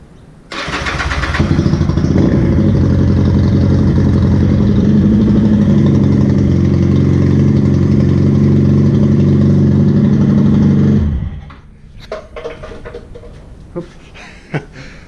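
A motorbike engine, just repaired after a long period of not starting, catches and settles into a loud, steady idle close by for about ten seconds, then cuts off, leaving faint handling noises.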